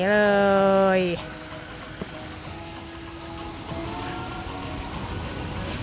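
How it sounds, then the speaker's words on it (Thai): Rain-style rinse shower at the entrance to the Raindrop pool of a Hong Kong Disneyland hotel, a steady hiss of falling water running through the clip after a brief voice at the start. "นี่มีจุดที่ให้ล้างตัวก่อนด้วย เป็นแบบเหมือนฝนตกลงมาจากฟ้าอย่างนี้เลย"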